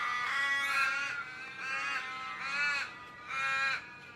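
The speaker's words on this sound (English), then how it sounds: "there's been a mob of crows living up in this tree over here" A mob of crows caws from a tree, harsh repeated calls in several loud bursts close by, with no talking over them.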